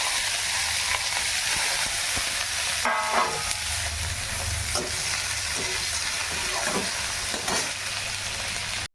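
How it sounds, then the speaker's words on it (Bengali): Onions and green chilies fry with radhuni spice tempering in hot oil, giving a dense continuous crackling sizzle throughout, with a few brief clatters of stirring. "এই যে রাঁধুনি ফোড়ন দিলাম আর এই যে পেঁয়াজ পেঁয়াজ আর লঙ্কা"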